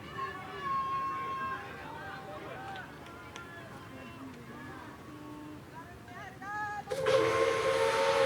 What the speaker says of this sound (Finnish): tuo myrsky Sumutorvi tuolta viheltää lähtömerkin